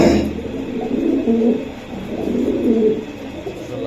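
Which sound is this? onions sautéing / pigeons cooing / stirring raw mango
pigeons cooing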